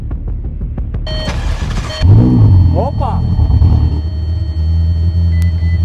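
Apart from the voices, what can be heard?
Ferrari engine starting and running rough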